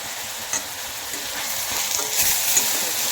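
Spicy egg bhurji masala fries in a pan with a steady close sizzle, a bright hissing texture that swells slightly toward the end, with light stirring.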